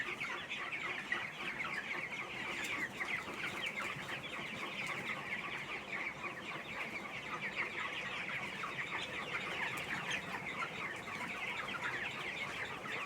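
Broiler chickens in a farm shed keep up a continuous chorus of soft clucks and chirps, many birds at once and fairly faint, with no talking.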